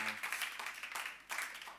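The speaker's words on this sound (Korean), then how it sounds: "우리 예배를 받으시는 우리 주님께 다시 한번 감사의 박수 올려드리고 하겠습니다" A church congregation claps in a dense, steady burst of applause lasting a couple of seconds, broad and uniform with no talk over it.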